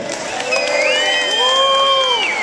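An outdoor block party crowd cheers and whoops loudly, with high shouts and whistles rising over a steady roar of voices and clapping.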